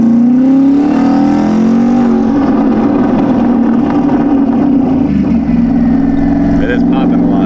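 Tuned turbocharged car engine on a bass tune at about 5 pounds of boost, revving hard and loud with a steady drone and crackling pops, with voices talking over it.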